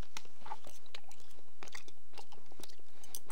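Close, crunchy chewing of cooked rice wrapped in seaweed, made in a low-sugar rice cooker, with irregular bites and crackles over about three seconds and no talking.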